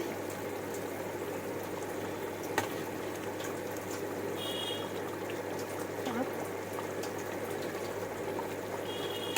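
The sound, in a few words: poppy seed paste boiling in a pan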